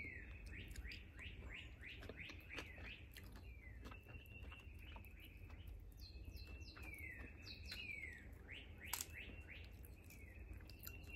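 Birds chirp and tweet outside a porch, many quick repeated calls overlapping from moderately close by over a low background rumble, with a faint wet chewing sound now and then.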